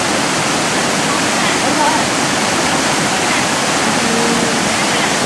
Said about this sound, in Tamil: இது அந்த தண்ணி விழுற இடம்.